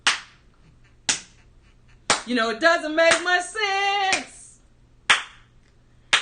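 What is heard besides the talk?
rhythmic hand clapping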